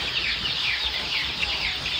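A flock of farm chickens clucks continuously, a dense layered chatter of many hens close by with no pauses and no talk.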